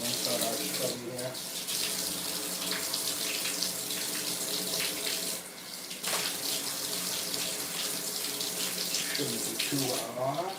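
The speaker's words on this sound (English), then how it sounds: "I turn on the hot water, and that's going to warm up the cast iron a little bit" Hot water runs steadily from the tap into a cast iron bathtub during refinishing, a loud continuous splashing rush that dips briefly midway, with no voices.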